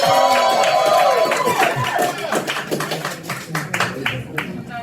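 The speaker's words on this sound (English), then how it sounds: "Cheer for Alex one more time." A live magic show audience cheers and claps for a volunteer. A loud burst of applause and shouting fades into scattered claps, with a voice talking over it.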